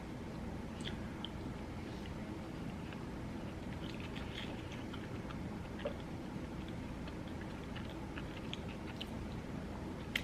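Quiet, close chewing and soft crunching of chicken nuggets dipped in Chick-fil-A sauce continue steadily, with small clicks and squishes scattered through a faint background hum.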